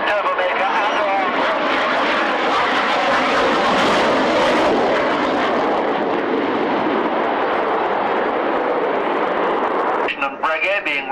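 A Harrier jump jet with flaps down roars loud and close at an airshow, a sustained broad jet blast that dominates before easing off near the end.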